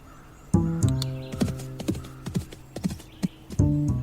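A horse in a radio-style audio drama whinnies loudly and stamps, with sharp hoof clops and a second neigh near the end, close and prominent with no talk over it.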